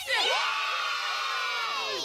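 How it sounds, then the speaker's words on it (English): A large crowd at a wrestling event cheers and whoops loudly in one sustained roar, with high-pitched shouts rising over the dense wash of voices. "Oh, you're cheering now"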